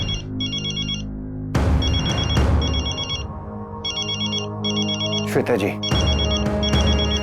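A telephone rings over and over in repeated electronic bursts during a tense domestic scene, the ringing pausing briefly while a voice speaks and loud dramatic music swells underneath.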